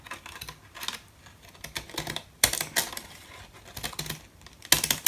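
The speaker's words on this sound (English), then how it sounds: "I'm not sure how well these scissors are going to cut this paper." Decorative edge scissors cut through paper in a series of crisp, close snips and crunches, irregular in rhythm, with several sharper louder cuts and no talk.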